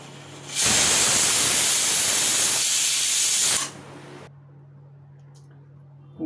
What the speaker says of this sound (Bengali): কুকারে সিটি হয়ে গেছে মারা, কুকারে সিটি বেরিয়ে গেছে।